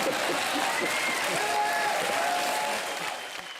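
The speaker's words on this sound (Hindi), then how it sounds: "जोरदार तालियां इनके लिए" Studio audience applause for a comedian on a comedy show, a full steady roar of clapping with some whoops, tapering slightly toward the end; a voice can be heard faintly under it.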